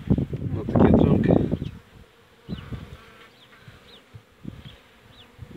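Buckfast honey bees buzzing during a spring hive inspection after a long winter, a loud close hum at first, then softer buzzing with brief flybys and handling noises.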